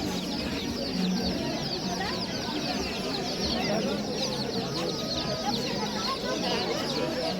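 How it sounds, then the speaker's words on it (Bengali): Chicks and hens cluck and cheep in a dense, continuous chorus at the Galiff Street bird market in Kolkata, with a murmur of crowd voices underneath. "আর এখানে মুরগির বাচ্চা দেখতে পাচ্ছ।"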